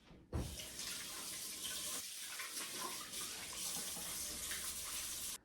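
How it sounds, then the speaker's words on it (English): Steady rush of tap water running into a kitchen sink during handwashing before cooking, continuous and fairly close for about five seconds, with no talking. "let's wash our hands."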